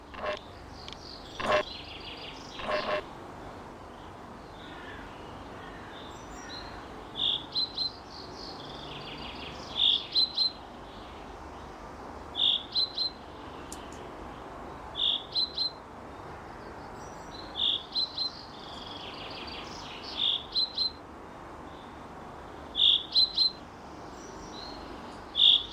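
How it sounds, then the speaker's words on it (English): Birds chirp in the Sally Face video game, short paired bursts of high tweets repeating every couple of seconds against a faint hiss, with an early louder call near the start. "See, I can't see the birds."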